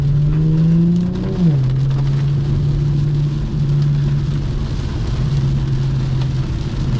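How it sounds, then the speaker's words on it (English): Heavy rain pours outside a rear-wheel-drive Infiniti G37, a continuous broadband wash of drumming water over the low, steady hum of the idling engine, loud and close. "Damn, it's fucking pouring."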